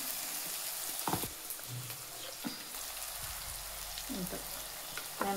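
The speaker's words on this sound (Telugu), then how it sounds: "అల్లం వెల్లుల్లి అద్ద కూడా కొంచెం ఫ్రై అయిన తర్వాత కొంచెం చిటికెడు పసుపు వేసుకున్నాము" Ginger garlic paste with a pinch of turmeric fries in a pan for chicken curry, a soft steady sizzle with occasional spoon clinks and stirring scrapes, a voice talking faintly over it.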